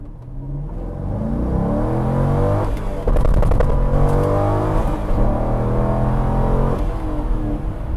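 A C5 Corvette Z06 with an MGW short shifter pulls away from a light and accelerates hard through the gears, loud engine rising in pitch, brief drops at each shift, heard from inside the car.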